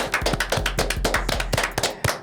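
Podcast hosts on a sports show clap their hands close to the mic in a quick, uneven run of about a dozen sharp claps, with no talking.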